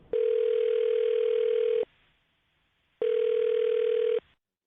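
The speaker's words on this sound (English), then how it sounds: "I'm going to dial her phone number right now." A telephone call placed on a radio show sounds two long, steady electronic tones separated by a short silence, clear and isolated with no talking.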